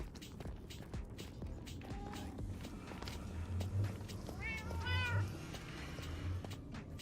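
Cats meow repeatedly in the Minecraft video game, several short rising calls at moderate distance over steady game background noise and soft footstep-like thumps.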